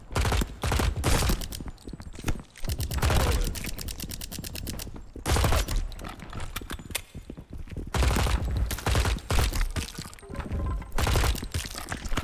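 Rapid gunfire from a heavy-recoil gun in the video game MILO, loud bursts of automatic shots in several long volleys separated by brief pauses.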